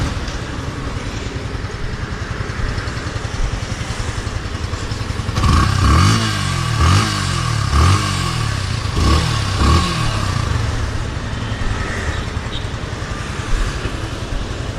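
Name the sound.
Yamaha FZS V3 150cc motorcycle exhaust note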